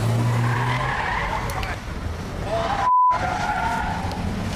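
Stolen car driving on a road with tires skidding and squealing loudly, engine noise rising and falling through a sharp skid, close and continuous.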